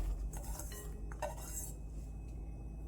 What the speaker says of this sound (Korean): 썰어서 준비한 우엉을 넣어주고요.